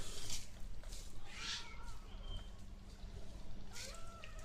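A mother cat with five-day-old kittens gives faint, thin mews scattered through the clip over a steady low background hum, quiet and close by.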